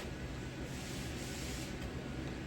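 Steady, continuous hiss of an aerosol spray paint can, even and unbroken throughout, heard up close without pauses.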